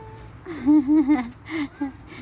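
A voice imitates a cat's meow in a quick series of sing-song mews over a low background hum.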